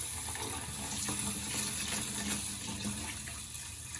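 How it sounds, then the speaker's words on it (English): Tap water runs steadily into a sink as rice is washed in a strainer, giving a continuous close splashing rush with slight fluctuations and no talk. "we're going to head over to the sink with our rice and our strainer at the sink, and let's get started washing our rice"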